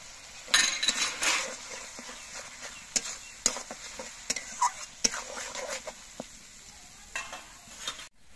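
Ginger frying in a pan with green chili paste and tomato paste added for a prawn curry, with soft sizzling and intermittent clinks and scrapes of a spoon stirring.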